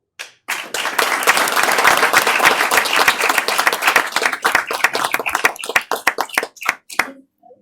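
A school board meeting audience applauds a Prosper High School swimmer, Jacob Wimberly, with loud, dense clapping that holds steady for several seconds and then thins into scattered claps before stopping.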